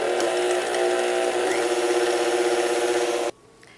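An electric mixer whisks eggs and sugar for an orange and almond semolina cake, a steady loud mechanical whir with a ratcheting rattle running continuously before stopping abruptly near the end.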